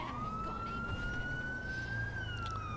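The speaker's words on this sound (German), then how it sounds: "Den fahren wir mal mit Sirene." A police car siren in the video game GTA V wails in a steady rising and falling tone over the low rumble of the game's traffic.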